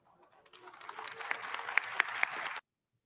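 An audience cheers and applauds after a speech at a summit event, a dense wash of clapping with sharp individual claps rising over it and voices mixed in, then cutting off abruptly.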